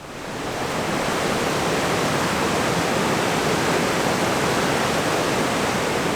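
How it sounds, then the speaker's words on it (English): The high River Lowther rushing over a bridge and an island, a loud, steady, broadband roar of flowing water that fades in and then holds constant, with no talk. "the water's so high, it's not just running over the bridge, it's also running over the island itself"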